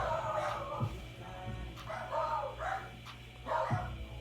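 A dog barks several times in short, irregular bursts, fairly close but muted against a quiet indoor background, with no clear speech.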